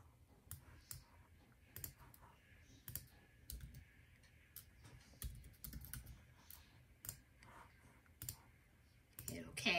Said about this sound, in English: So I'm going to click on that color.